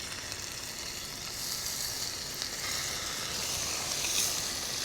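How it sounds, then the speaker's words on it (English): Bacon fries in an oiled cast iron pan on a camp stove during winter car camping, a faint but steady hissing sizzle that swells slightly toward the end, with no talking. "Bacon cooks so fast in the cast iron."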